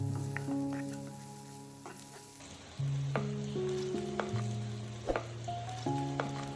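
Ginger garlic paste sizzles in melted butter in a pan, a steady close frying hiss broken by a few scrapes and clicks of mixing, with tonal hum in the background.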